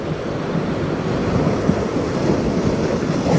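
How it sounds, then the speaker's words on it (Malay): Sea waves surge against a rocky shoreline during shore fishing, a loud continuous wash of surf and spray with wind buffeting the microphone, close by and unbroken, with no voices. "Okey, ombak naik."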